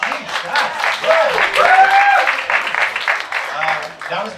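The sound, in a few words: audience clapping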